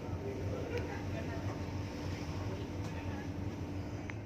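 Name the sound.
old slow ferry's engine thumping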